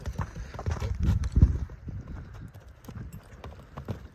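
A young horse's hooves clip-clop on the ground, irregular knocks that are louder in the middle and then trail off, with rustling and handling noise around them.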